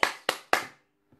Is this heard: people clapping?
yes